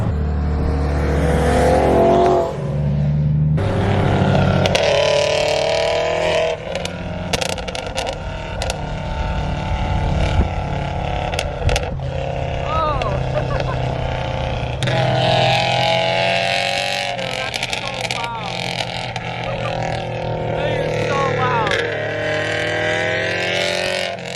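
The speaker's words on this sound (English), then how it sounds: "That unequal length header makes such a difference." A Subaru WRX exhaust with an unequal-length header burbles and rumbles steadily with a lumpy, uneven throb, revving up and down over a long stretch, loud and close with no talking.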